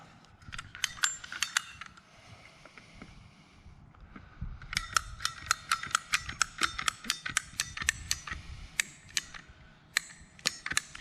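A handheld cutter snips through plastic irrigation tubing during a tube irrigation repair, giving close, crisp ratcheting clicks in quick bursts with a brief pause, then a longer run of evenly spaced snaps, with no voices.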